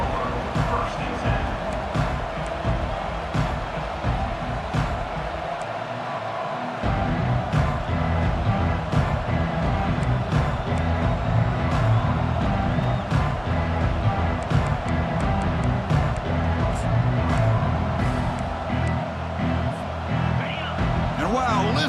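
A roaring stadium crowd in a college football video game, Baylor against South Florida, a dense continuous swell of cheering that surges louder partway through, under an announcer's commentary.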